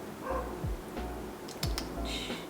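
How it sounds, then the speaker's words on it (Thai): A neighbour's dog barks faintly at a distance, a few short yips over a steady indoor background with soft tapping like keyboard typing. "หมาข้างบ้านไม่เคยเห่าแล้วทำไมต้องมาเห่าตอนนี้"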